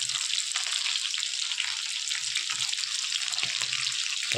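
Chicken pieces for butter chicken, just flipped, fry in a pan with a dense, steady sizzle and hiss, close and unbroken, with faint scraping stirs underneath.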